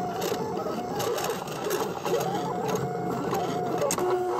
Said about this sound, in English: Now my machine goes over twice because I'm using 120 pound cardstock.